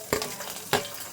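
Garlic and ginger dropped into hot frying oil for a home-style Bombay chutney, giving two brief crackling sizzle bursts over a low steady frying hiss, close by.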